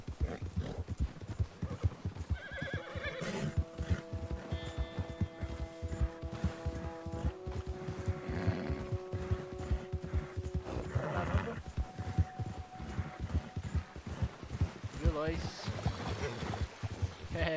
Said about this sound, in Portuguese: É o melhor cavalo do jogo. É puro sangue esse aqui, né?